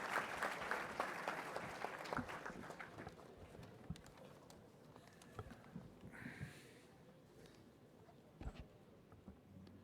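An audience at a National Cadet Corps event applauds to welcome the Defence Minister. The clapping is dense at first, then thins into scattered claps and fades to quieter room sound.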